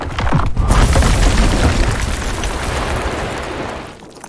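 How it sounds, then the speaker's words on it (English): Layered designed explosion with crashing rock and glass debris, a loud sustained blast and rumble that stays dense for about four seconds before tapering off at the end, with no talk. "I'm going to show you this on this explosion that I'm currently designing"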